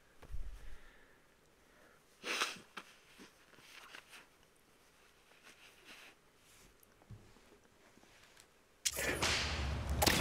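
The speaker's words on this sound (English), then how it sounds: "Gotta blow my nose real quick." Someone blows their nose in a few sharp, breathy bursts. Short snorts come early and midway, then a longer, louder blast of air follows near the end, against a quiet background with no talk.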